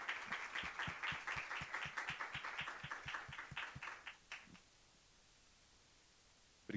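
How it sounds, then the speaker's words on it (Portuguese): Audience clapping at a welcome onstage in a museum auditorium: steady rhythmic claps at moderate distance for about four seconds, then quickly fading to room quiet. "Palmas para a Bianca"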